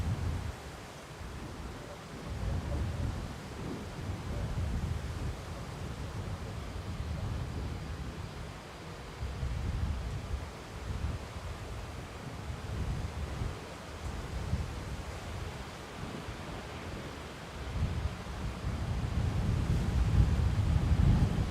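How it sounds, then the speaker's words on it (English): Wind buffets a microphone outdoors at Manchester Airport as a low, steady rumble that swells and fades in gusts and grows stronger toward the end, with no talking. "Wind's definitely picked up a bit more now."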